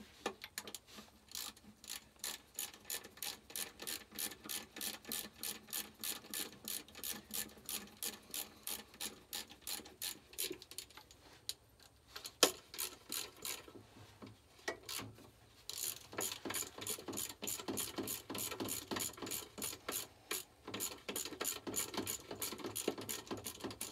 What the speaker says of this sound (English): So just so it doesn't piss oil everywhere, I'll just bolt it back down.